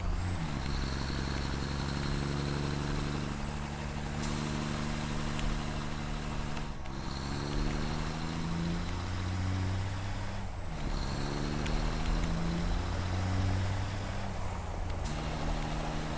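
Vehicle engine driving in the Satisfactory factory-building game, a continuous loud droning rumble with layered steady tones and rising whine sweeps that reset every few seconds like gear shifts, with sharp hissing breaks between them.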